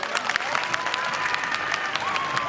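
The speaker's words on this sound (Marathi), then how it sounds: "टाळ्या वाजवून सांगा बरं" An audience at a live stage show claps in a dense, steady burst of applause that fills the whole stretch, with faint crowd voices mixed in.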